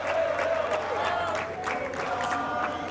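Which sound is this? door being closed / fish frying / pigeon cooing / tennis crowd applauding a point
tennis crowd applauding a point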